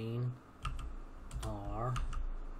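Computer keyboard keys are tapped in short clicking bursts while debugging a program, faint and close, mixed with a man's speech.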